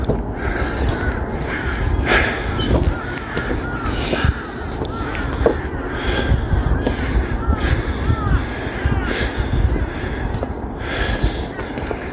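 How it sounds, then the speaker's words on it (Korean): A crow caws repeatedly near a park golf course at an ecological park in Busan, with sharp calls recurring every second or two over steady outdoor background noise. "까마귀 봐라 까마귀 머리 좋습니다"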